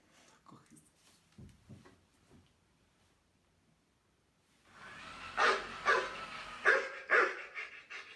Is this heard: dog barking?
yes